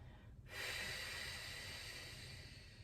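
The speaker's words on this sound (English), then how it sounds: "pushing out, bringing the diaphragm up, pushing out that air" One long, quiet exhale pushes air out from the diaphragm during a beginner yoga breathing exercise, a steady breathy rush that starts after a brief pause and continues to the end.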